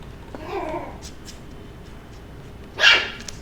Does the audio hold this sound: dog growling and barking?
yes